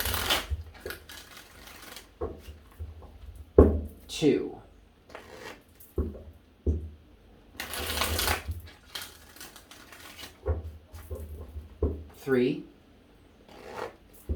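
Tarot cards being shuffled in several quick riffling bursts with pauses between, close and crisp, while a person counts aloud between shuffles.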